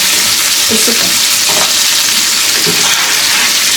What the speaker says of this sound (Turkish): Şimdi tuzunu koyarak iyice kavuracağız